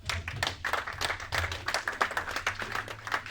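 A church congregation claps in praise of the Lord during a worship service. The claps are quick and rhythmic, fairly close, and keep a steady beat throughout with no talk over them.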